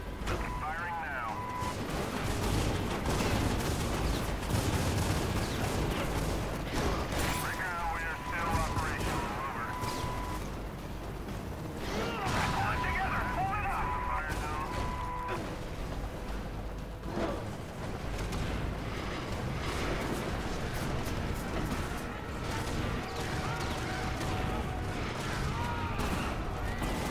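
Military strike package opening fire in the video game Prototype, repeated heavy blasts and gunfire rumbling under game effects and radio-style voices, continuous and loud throughout.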